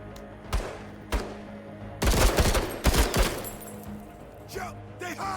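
Assault rifle fire in a shooter game: two single loud shots, then heavy sustained bursts, followed by a few scattered fainter shots, close and punchy.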